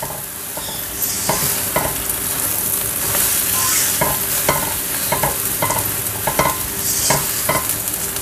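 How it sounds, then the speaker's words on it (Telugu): Puffed rice roasts in a pan over high heat while it is stirred, giving a continuous dry sizzle marked by frequent spatula scrapes and taps. It is close and steady, and no one speaks. "ఇది కొంచెం మరమరాల్లో తడి అంతా పోయి బాగా వేడెక్కే వరకు ఉంచాలి."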